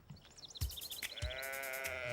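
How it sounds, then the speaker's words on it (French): Several sheep bleat repeatedly nearby on a farm, short wavering calls overlapping one another, with a longer drawn-out bleat closing the sequence. "Je vais voir les moutons."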